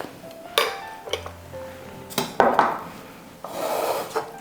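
Prawns being mixed back and forth in a marinade, scraping, rubbing and clinking of a utensil against a bowl in uneven bursts, near and fairly loud.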